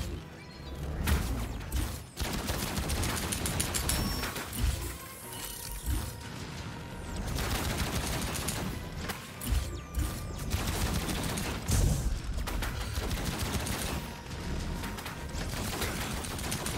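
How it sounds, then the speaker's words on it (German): Gunfire in the video game Outcast: A New Beginning comes as rapid clattering bursts of shots with mechanical ratcheting clicks, repeated in irregular volleys across a busy, dense game soundscape without speech. "da wird geschossen"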